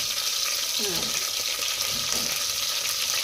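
Thin strips of chopped green chilli fry in hot oil, giving a steady, close hiss with faint crackles and a couple of brief stirring scrapes, with no talking.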